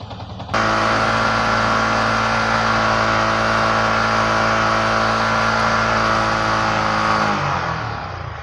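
A Yamaha R15 motorcycle engine with a radiator air-lock problem starts up abruptly and holds a loud, steady high-revving drone for about seven seconds close by, then winds down.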